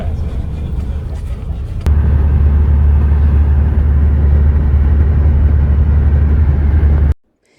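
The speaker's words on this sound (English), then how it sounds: "we got straight on the bus to Long Bay." Steady loud engine drone and road rumble inside a tour bus driving from Hanoi to Ha Long Bay in Vietnam, continuous for several seconds before cutting off abruptly.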